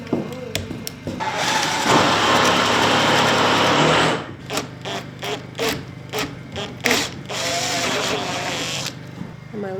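A power drill bores holes through a wooden front door for an 1800s rim lock, a long continuous whine followed by shorter stop-start bursts, close and loud, with voices talking between.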